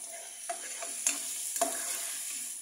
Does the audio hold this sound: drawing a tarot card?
no